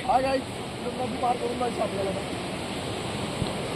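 River flowing near Kalu waterfall, a steady broad rush of water close by, with a person speaking over it at the start.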